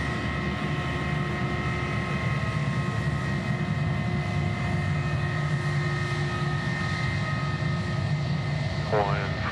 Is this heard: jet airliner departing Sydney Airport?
yes